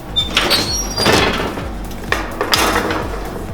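A tray of banana muffins goes into the oven: a few loud close clunks and rattles as the oven door and pan are handled, then quieter knocks, with no talking.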